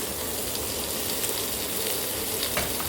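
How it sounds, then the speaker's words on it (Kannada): Capsicum sautéing in a hot pan for fenugreek palav gives a steady, dense sizzle and frying hiss that runs unbroken throughout, close and fairly loud, with no talk. "Next capsicum ಹಾಕ್ಕೋತೀನಿ. ಅದು ಒಂದು 2 ನಿಮಿಷ ಅಷ್ಟು ಬಾಡಿಸಿದ್ರೆ ಸಾಕು."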